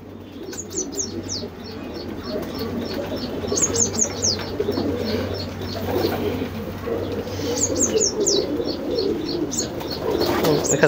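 A dark checker racing homer pigeon coos in a loft, with repeated low coos and bird chirps over a busy background that has a steady low hum.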